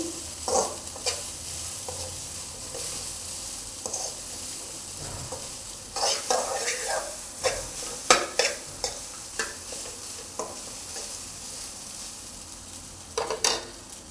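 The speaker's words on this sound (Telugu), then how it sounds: "ఇదంతా కూడా మనం మిక్స్ చేసుకుందాము" Egg fried rice being stirred and tossed in a pan, with a steady sizzle under repeated scraping strokes of a spatula, louder bursts of mixing coming in clusters, close and without talk.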